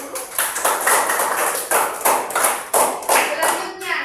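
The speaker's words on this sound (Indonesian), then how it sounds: "Berikan tepuk tangan yang besar untuk kita semua dulu." A group in a primary school ICT training session in Barru claps hands in a loose rhythmic pattern, bursts of clapping repeating roughly every half second, fairly close and lively.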